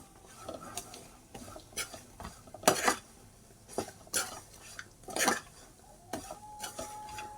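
Chili powder is mixed into mutton pickle: a spoon scrapes and clinks against the vessel in uneven, close strokes with short pauses between, fairly quiet and with no talking.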